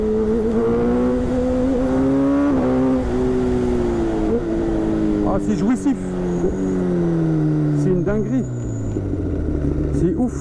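A Kawasaki Ninja ZX-10R sport motorcycle engine revs and pulls smoothly, its pitch rising and dropping through quickshifter gear changes, loud and close, with a voice talking over it.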